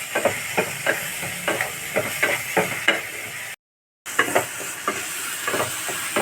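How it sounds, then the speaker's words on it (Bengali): Spices, salt and ginger-garlic paste sauté in a pan for green chicken, with a bright continuous sizzle and regular spatula scrapes; the sound cuts out briefly for a moment before resuming. "এই সব মশলাগুলোকে এবার আমি ভালো করে কষিয়ে নেব"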